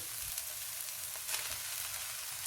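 Spaghetti tipped into a hot frying pan of ingredients that have been frying for a few minutes, for chicken spaghetti spring rolls, giving a steady, close, even sizzle with no one talking.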